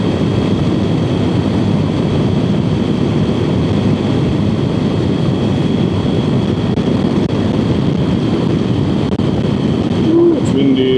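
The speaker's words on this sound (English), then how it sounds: "Ooh, it's windy." Strong wind roars steadily over the microphone of a rider on a bike outdoors, a loud, continuous, low rushing buffet lasting throughout with no voices.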